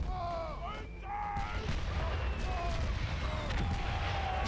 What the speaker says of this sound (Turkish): Oradakiler bitti, buradaki toplar başladı.